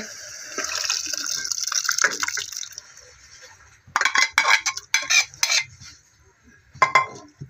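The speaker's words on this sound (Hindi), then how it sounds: "अभी उन्हें अक्का मसूर डालेंगे" Boiled whole masoor lentils are tipped into a pan, a steady pouring, splashing wet rush followed by a series of sharp clinks and scrapes of a utensil against cookware, close and fairly loud with pauses between.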